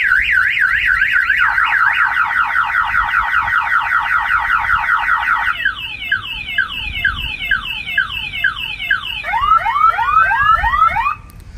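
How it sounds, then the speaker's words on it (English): A loud aftermarket Clifford 3105 car alarm on a 2019 Ram 1500 cycles through several siren tones: rapid warbles, a steady wail, then fast chirping sweeps, with no voices. "If you hold this button for 3 seconds, you can fire the alarm off"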